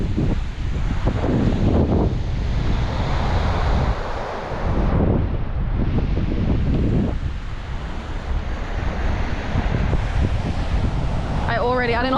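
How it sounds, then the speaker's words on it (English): Strong wind buffets the microphone on the beach at Palm Cove, a loud, continuous roar with gusts rising and falling alongside surf, with a voice speaking over it at times. "I don't know if you can hear me over the wind."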